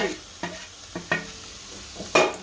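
Spices being stirred into mashed potato with peas for aloo matar paratha filling: a few distinct scraping, thudding spoon strokes against the bowl or pan, close and alone, with quiet gaps between them.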